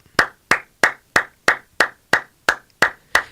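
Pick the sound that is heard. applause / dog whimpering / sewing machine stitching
applause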